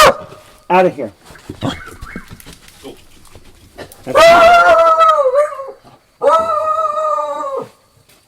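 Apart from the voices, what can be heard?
dog barking and howling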